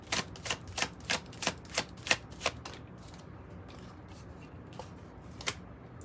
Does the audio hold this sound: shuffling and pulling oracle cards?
yes